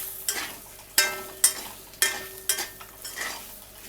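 A spoon repeatedly stirs ivy gourd masala curry in a pan, making sharp scraping strokes about every half second, each followed by a soft sizzle.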